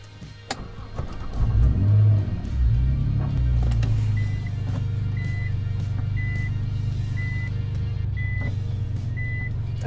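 A Nissan R35 GT-R starts and revs briefly, then settles into a low idle while its reversing alarm sounds a series of six evenly spaced short beeps, moderately loud and close.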